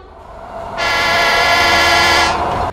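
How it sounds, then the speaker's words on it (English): A passing train in Psychonauts, in a sewer area, sounds a loud, sustained horn blast of about a second and a half over a steady low rumble, with no voices. "That's a train."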